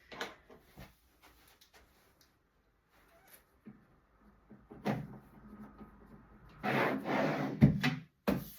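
Drawers fitted into flat-pack IKEA furniture: scattered wooden knocks and scrapes, quiet at first, then louder sliding and bumping clatter near the end, close by.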